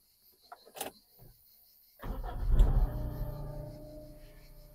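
A Toyota Starlet engine cranks and catches after a few faint clicks and a brief whir, then settles into a steady, close idle with a low rumble that gradually softens.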